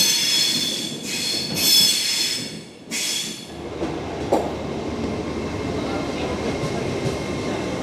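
A Lumo passenger train pulls into Edinburgh Haymarket station, its wheels squealing loudly on the rails before settling into a steady low rumble as it slows alongside the platform.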